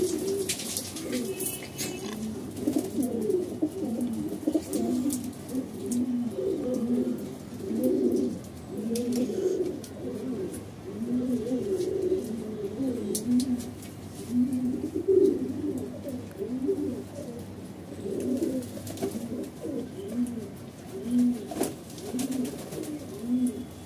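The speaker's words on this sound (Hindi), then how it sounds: "ये देखिए हमारे कबूतर सारे खूब मस्ती कर रहे हैं।" Pet pigeons coo steadily in soft, rolling, repeated calls, several birds close together in a rooftop loft, with faint chirps and occasional rustling in the background.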